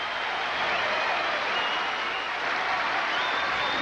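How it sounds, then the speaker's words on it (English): A tennis crowd at the 1991 French Open applauds Jimmy Connors before a fifth set, a steady wash of distant clapping that holds at an even level throughout. "The noise you're hearing from the crowd"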